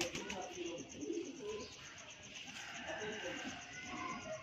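A pair of Lakha pigeons coo softly and repeatedly at close range while someone talks over them, with a faint steady high whine in the background.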